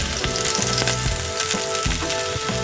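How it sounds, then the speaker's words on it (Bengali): Dal bora fritters frying in hot oil at medium heat, a dense continuous sizzle with crackling bubbles and a few soft utensil knocks, close and steady throughout with no voices. "বড়াটা একটু ভাজতে দিতে হবে"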